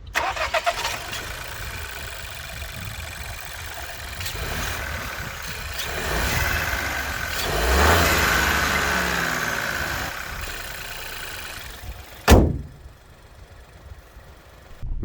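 A Seat Arona 1.0 TSI three-cylinder petrol engine cranks and fires up, then settles into a steady, slightly rough idle, with a sharp clunk near the end.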